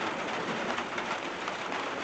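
Steady rain falling outside, an even broadband hiss that holds without pause throughout, heard from indoors with no voices.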